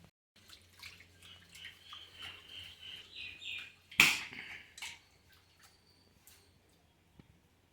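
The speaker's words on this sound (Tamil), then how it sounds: "களைஞ்ச அரிசி தண்ணியை அதில் விடுறேன்." Rice-washing water is poured into a cooking pot in a home kitchen, giving a faint, steady trickle with a sharp clink midway and soft drips after.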